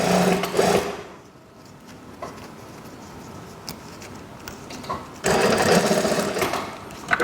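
A sewing machine stitches school trousers in two loud bursts of rapid, buzzing mechanical clatter, separated by a quieter pause with light handling noises.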